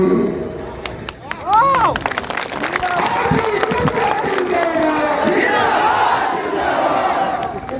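A large crowd roars, cheers and claps at a political rally in Saharsa, Bihar, a loud and continuous wash of voices with shouts and whistles rising over it.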